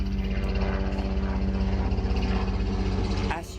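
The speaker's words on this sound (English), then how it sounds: "That's a big helicopter going over the house, very big one." A large helicopter passes low over a house, its steady rotor thump and engine drone loud and continuous for several seconds before easing off at the end.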